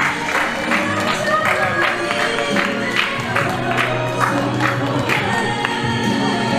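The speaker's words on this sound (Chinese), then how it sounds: "Let's give them a round of applause." Guests at a wedding reception in Singapore applaud the couple, a moderately loud, continuous patter of clapping with crowd murmur and a few louder claps, under music and some voices.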